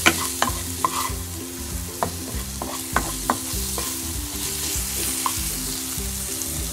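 Potato and chicken paratha filling fries in a pan, a low sizzle broken by repeated rhythmic scraping and knocks of a spatula stirring close up, with no talking.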